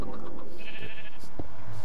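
Minecraft sheep bleats in the Nether, a short nasal bleat rising mid-clip over background game noise, with a voice heard faintly.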